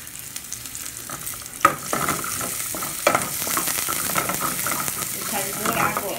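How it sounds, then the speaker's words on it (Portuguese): Garlic fries in oil in a home kitchen pan, giving a steady, close sizzle with a few sharp clatters and stirring scrapes, alone without talk. "E agora com um pouquinho de óleo. Pra poder fritar esse alho aqui também."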